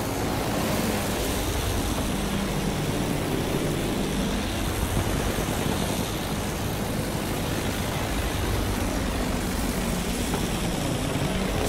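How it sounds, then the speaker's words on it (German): Enemy aircraft droning overhead in a combat video game, a steady, loud engine roar that holds at a constant level throughout with no voices. "Flugzeug in Sichtweite!"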